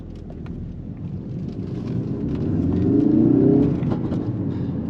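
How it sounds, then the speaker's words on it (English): An MK3 Ford Focus RS drives along with a steady road and engine rumble that swells into a louder rev midway before easing off, heard from inside the car with no talking. "So I absolutely love the pops that come out of it."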